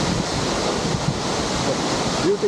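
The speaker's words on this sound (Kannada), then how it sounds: "ಫುಲ್ ನೀರು ಬೀಳಾಕೈತಿ" Heavy water pouring down a waterfall at Amboli Ghat in fog during the rainy season, a steady loud broadband roar with wind buffeting the microphone throughout and a brief faint voice.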